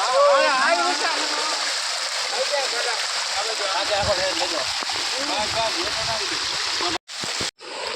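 A steady roar of falling water from a waterfall in Kutch, Gujarat, during the rainy season fills the air, with voices talking over it throughout.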